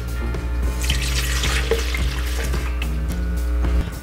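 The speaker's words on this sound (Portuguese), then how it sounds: "vou colocar os ingredientes no liquidificador" Milk being poured into a blender jar while making a pavê, a close, continuous liquid splashing and gurgling stream over a low electrical hum.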